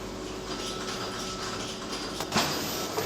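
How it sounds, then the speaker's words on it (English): Commercial brewery canning machine filling beer cans and fitting lids on packaging day: a steady mechanical whir and hum with faint rattling, broken by a sharper clunk near the end. "view from this side on the machine as it's filling there, all the lids going in"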